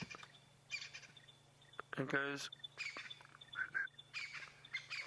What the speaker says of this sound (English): Now there's a beautiful little bird calling.